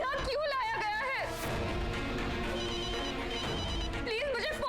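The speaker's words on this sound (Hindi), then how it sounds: "वो मेरा फोन बज रहा है" A mobile phone rings with a loud, repeating electronic tone that carries on for several seconds alongside a dramatic music bed, with no voices over it.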